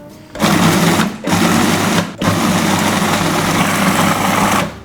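A food processor blitzing chopped vegetables for a bolognese, a loud steady motor whir in three close bursts separated by brief pauses, running alone without talk.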